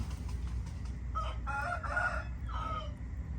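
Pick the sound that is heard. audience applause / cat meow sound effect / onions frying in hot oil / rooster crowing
rooster crowing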